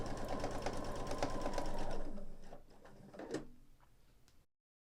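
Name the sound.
sewing machine quilting 1/4 inch lines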